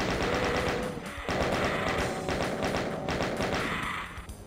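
Chaingunner enemy in the Voxel Doom 2 video game rattling off sustained rapid chaingun fire, dense and continuous with thumping shots over a busy game soundscape, no talking.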